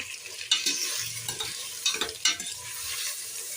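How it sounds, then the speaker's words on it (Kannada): Spices sizzle in hot oil for a tempering for sambar, giving a continuous crackling hiss broken by sharp spatters and the clatter of stirring, close and fairly quiet. "ಇನ್ನು ಒಗ್ಗರಣೆ ಆಗಿದೆ"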